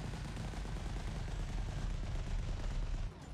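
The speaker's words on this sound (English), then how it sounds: "Now I will just shoot out all my clip for auto-reload multi-cannon" Sustained rapid gunfire from an auto-reload multi-cannon in the space game Elite Dangerous, a loud, dense, continuous rattle that eases slightly at the very end.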